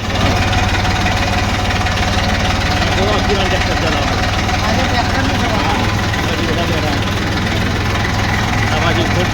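A tractor engine chugs loudly and steadily at close range while riding, a continuous low throbbing drone with no let-up.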